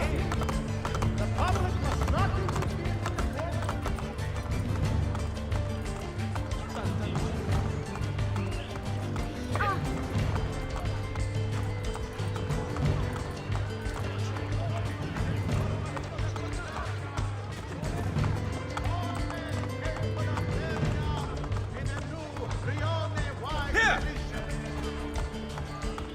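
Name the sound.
horse galloping, from the video game Assassin's Creed Brotherhood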